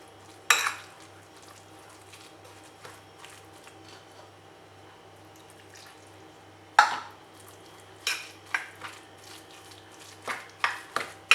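Rava batter being mixed with water added little by little, a spoon scraping and clinking against the bowl in a few sharp isolated knocks separated by quieter stirring, close and moderately loud.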